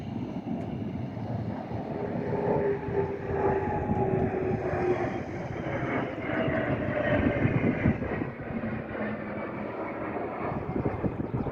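An aircraft at an air show passes overhead as a sustained droning roar with a slowly falling engine tone, moderately loud and smeared by wind buffeting across the microphone.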